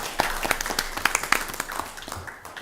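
Applause at a city council meeting: a small group claps in scattered, uneven bursts that thin out toward the end, fairly close and with no talk.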